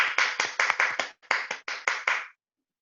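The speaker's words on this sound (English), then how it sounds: "So big round of applause for each and every one of you." A handful of event participants at an Ambedkar Jayanti celebration clap in short, distinct bursts, close and crisp with brief pauses, before stopping abruptly into silence.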